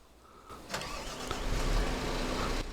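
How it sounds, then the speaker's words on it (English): A wheel loader in the video game Farming Simulator 22 starts its engine, which catches after a brief crank and swells into a loud, steady close roar. "Just listen to that engine roar."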